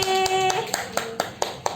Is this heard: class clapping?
yes